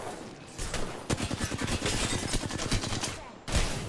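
Rapid bursts of video game gunfire from a shooter, dense crackling volleys that rise and fall over a few seconds with brief gaps, loud and up close.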